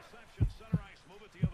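Three deep, muffled heartbeat thumps pulse at an even rhythm in the intro of an NHL 11 video game montage, fairly faint over a low hum.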